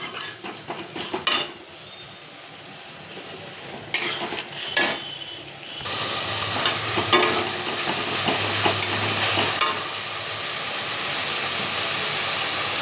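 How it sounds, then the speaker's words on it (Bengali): Catfish curry with garlic, green chili and ginger being fried and stirred in a pan: intermittent metal utensil clinks and scrapes, then a louder steady sizzle from about halfway, close by, no talk. "কাঁচা লঙ্কা আর আদা দিয়ে ভালো করে নেড়ে চেড়ে কষাবো।"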